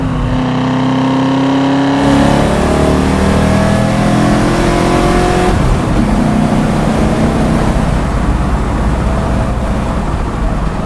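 A 1967 Ford Mustang restomod with a lumpy cam revs up and pulls hard, its engine note sweeping upward through the gears, loud and close, then settling into a steady raw roar.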